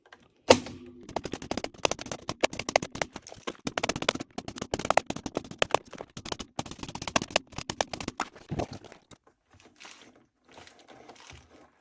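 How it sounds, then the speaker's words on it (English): Punch-down tool seating Cat 6 cables into a 24-port patch panel, giving a long run of rapid sharp clicks and snaps, close and fairly loud, stopping near the end and leaving quiet handling. "you want to make sure that that's right before you start hitting them with the punch tool"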